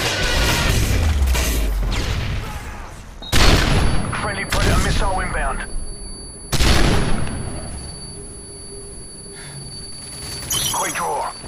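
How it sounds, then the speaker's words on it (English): Missile strike explosions in Call of Duty Domination on the Seatown map: two heavy, booming blasts roughly three seconds apart, with gunfire crackle throughout and voices talking over the action. "Missile inbound."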